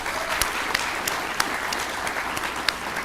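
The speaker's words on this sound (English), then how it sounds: "Another round of applause for these volunteers." Steady audience applause for city volunteers at the Elk Grove State of the City address, a dense, even clatter of many hands held throughout with a few sharper claps standing out.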